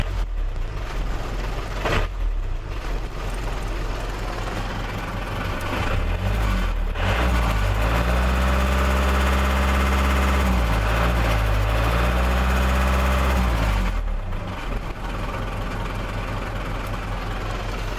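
A car engine idles with the clutch disengaged and no throttle, a loud, close, steady rumble with a low humming drone that wavers slightly in pitch, no voices over it.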